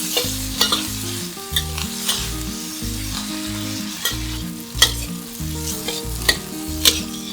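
Shiitake and shimeji mushrooms are stir-fried for a vegetarian spicy miso ramen, with loud, close sizzling and repeated scraping stirs of a utensil in the pan. No one speaks.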